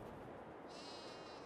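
A single sheep bleats close up at a sheep farm in Farming Simulator 22, one drawn-out, wavering call lasting over a second, with no talk.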